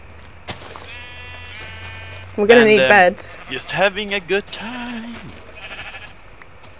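Sheep bleating in a Minecraft game as the player punches them, a few short wavering bleats in the middle under and between a man's casual chatter.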